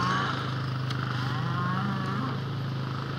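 Cattle moo repeatedly in a farm setting where a horse herd is being worked to move them, the calls drawn out and fairly close over a steady low hum, with no talk.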